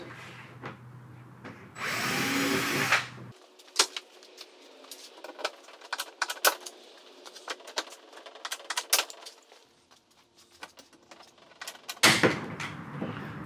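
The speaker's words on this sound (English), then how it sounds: "We're going to run a rivet here." A rivet tool sets rivets through a Yamaha windshield during a Sleekline installation, preceded by a brief drill-like whir, then a series of sharp irregular clicks and snaps, close and alone.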